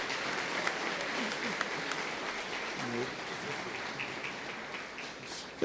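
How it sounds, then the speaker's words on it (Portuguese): A church congregation applauds steadily, a dense, even wash of clapping that carries through the whole stretch, with faint voices beneath it. "Então aplauda ao Senhor"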